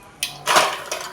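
Mustard seeds, fennel and cumin spluttering in hot oil in a kadai, heard as three short bursts of crackling pops against a quiet background.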